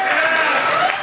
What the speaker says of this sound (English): Everyone, applaud for Akmina.